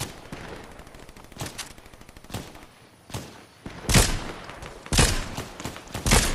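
Rapid gunshots ring out in a shooter video game, closely spaced at first, then louder separate bursts. The firing is moderately loud and comes in irregular clusters.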